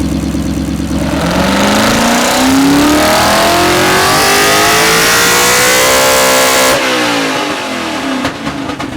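RTR-X handmade drift performance car engine revving loud and close, pitch climbing steadily through a long pull before cutting off sharply, followed by a brief lower rumble.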